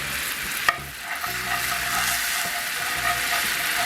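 A flour roux is stirred in a very hot cast iron skillet, giving a steady close sizzle with scraping strokes and one sharp clack near the start, and no voices.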